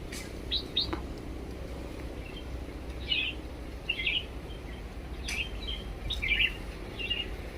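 Bulbuls feeding on ripe bananas in a tree on Havelock Island give several bright, clear chirping calls in short bursts, fairly close, over quiet outdoor ambience.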